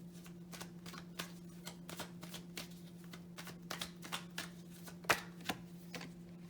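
Tarot cards shuffled and handled, heard as soft quick riffles and flicks with an occasional sharper snap, faint and close, over a steady low electrical hum.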